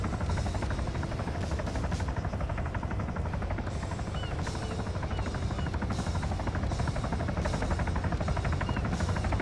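A helicopter's dense rotor drone and buzzing thrum in the game Arma 3 fill the whole stretch, loud and steady, with faint clatter on top.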